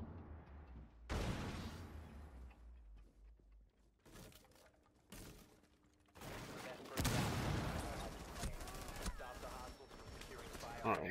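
Bursts of gunfire from the video game Rainbow Six Siege, sharp and loud, arriving in separate volleys with gaps between them, heaviest toward the end, while a voice speaks.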